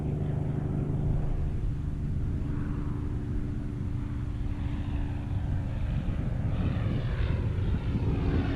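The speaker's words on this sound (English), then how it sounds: "That's a fucking Spitfire!" A Supermarine Spitfire passes overhead near a beach where bait is being gathered, a loud, steady propeller-engine drone filling the whole stretch with a slight swell and no break.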